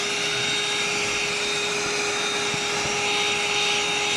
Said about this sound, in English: hoover this stuff here